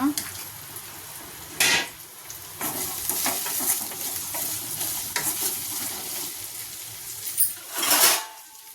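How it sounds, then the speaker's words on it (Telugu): Okra pieces frying with turmeric and salt in a pan, a steady close sizzle broken by loud scraping stirs and clatter of a spoon against the pan, no talk. "బెండకాయ ముక్కలు వేసేసుకుందాం"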